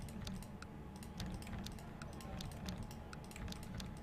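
Rapid keyboard shortcut clicks while playing the strategy game Crusader Kings 2, a quick irregular run of light taps over a steady, fairly loud bed of game music.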